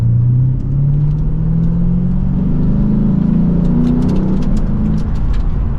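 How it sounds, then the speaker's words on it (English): A Lexus RC F in Sport S Plus mode accelerating mildly in third gear, its engine note rising steadily in a loud, continuous, gruff rumble heard from inside the car, with no talking. "mild acceleration from third gear, and it's got some grunt to it."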